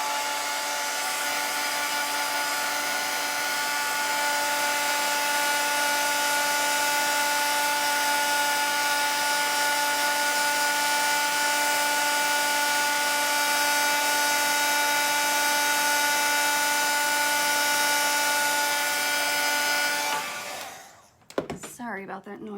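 Hair dryer blowing on wet paint on a craft door hanger, a steady loud whirring drone with a high whine that runs for about twenty seconds and then cuts off abruptly, followed by faint handling noise.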